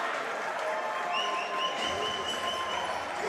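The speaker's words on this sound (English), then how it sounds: "you see the crowd cheering them on as they come back out on the floor" A crowd at a women's basketball game between Jamaica and Guyana keeps up steady applause and cheering throughout, a dense, fairly distant wash of clapping with a few whistles rising over it.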